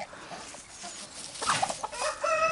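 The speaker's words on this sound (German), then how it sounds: "lass doch die Hühner" Chickens clucking in a Hungarian farmyard in autumn, with a rooster among the hens; a few soft clucks come first, then louder close calls and a sustained crow-like cry toward the end.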